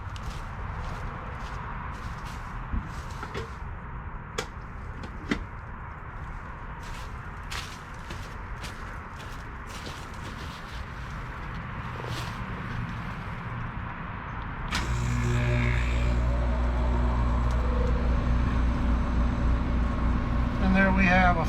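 A heat pump condensing unit with a newly replaced fan motor, first ticking and rustling faintly, then the fan kicking on halfway through into a steady loud whirring hum with a whine above it, under occasional talk.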